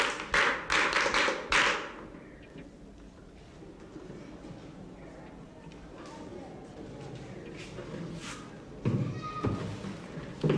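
A class of pupils claps for a student, a brisk burst of applause lasting about two seconds, then it drops to quiet room sound with speech and a few light knocks.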